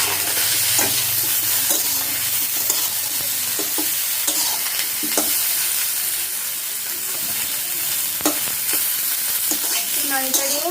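Cauliflower roast fries in a pan, a continuous loud sizzle and hiss with steam, while a spoon scrapes and stirs through it in repeated short strokes, close up and without speech.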